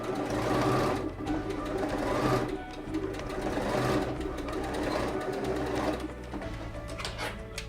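A sewing machine stitches a zippered makeup bag, its close, steady whirring and rapid needle chatter running almost unbroken, with a brief pause near the end.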